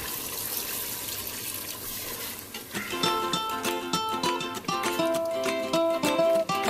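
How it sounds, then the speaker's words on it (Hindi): Water splashes into a pot of beef masala of fried onion and tomato paste for a few seconds, and then music takes over. "अब इसमें थोड़ा सा पानी लगाऊंगी।"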